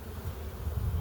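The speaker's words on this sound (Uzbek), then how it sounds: "Mana arilarimiz xudo xohlasa o'tiribdi." Honey bees hum around beehives at an apiary, a soft continuous low buzzing heard close up with no voices.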